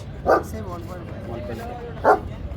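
A dog at a dog carnival in Agartala gives two short, sharp barks about two seconds apart, close by, while people talk through the clip.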